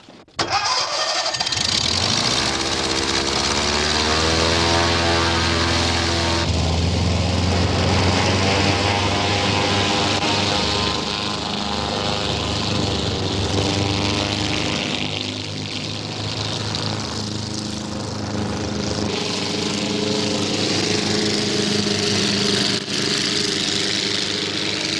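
A 1970s ACVA 6 hovercraft engine runs loud and steady throughout, a close, continuous droning roar with a deep fan rumble and no talking.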